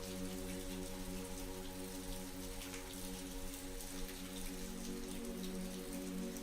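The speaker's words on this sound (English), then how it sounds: "One stormy night, as rain lashed against Amelia's windows and thunder rumbled in the distance" Steady rain falling at night, an even, close hiss of drops on surfaces with a low constant hum underneath, continuous and unbroken throughout.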